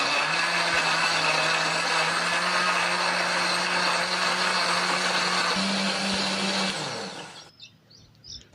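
A blender whirs loudly and steadily for several seconds, grinding a thick chili spice paste with a little added water, with a constant high motor drone, then cuts off abruptly.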